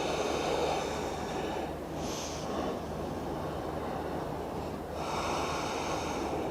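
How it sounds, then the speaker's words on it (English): Steady, audible ujjayi breathing during a yoga flow, long even breaths with a soft hiss, two fuller exhales standing out near the start and toward the end, with no talk. "Ujjayi breathing, so creating that soft contraction."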